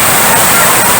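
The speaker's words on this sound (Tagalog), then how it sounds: "Kaya kusog kayong tingog sa tubig." A river or stream rushes loudly and steadily, a dense, unbroken wash of water noise filling the whole brief moment.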